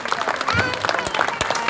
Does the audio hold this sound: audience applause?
yes